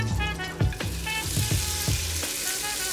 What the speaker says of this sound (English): we're going to add our gnocchis into the pan